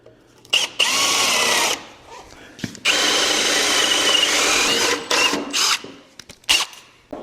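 A power drill bores a slot into a wooden frame piece in a workshop, whining loudly in two long sustained runs and then several short bursts, up close.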